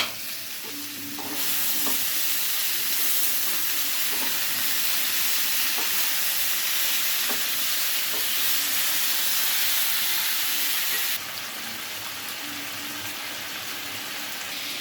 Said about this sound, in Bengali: বন্ধুরা, এবার টমেটোগুলো দিয়ে দিব।